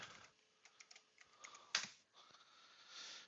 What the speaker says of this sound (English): typing in the date like every 5 minutes